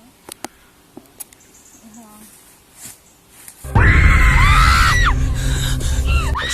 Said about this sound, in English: this frightens the girls, and they immediately start screaming, running away